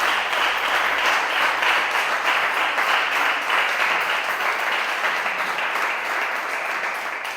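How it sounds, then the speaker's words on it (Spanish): A church congregation applauds the Lord during a Spanish-language sermon, a dense, steady wash of clapping that holds loud and even throughout without break. "Dale un fuerte aplauso al Señor."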